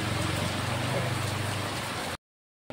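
Steady rain pours down in a dense, unbroken hiss with a low rumble beneath, holding at even loudness for about two seconds before cutting abruptly to silence.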